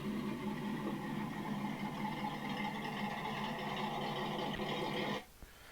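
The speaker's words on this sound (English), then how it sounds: "I went around and got some exhaust tones" A car's exhaust note, recorded on an 80-degree day, holds a steady, fairly loud engine drone for about five seconds and then cuts off abruptly, leaving near silence.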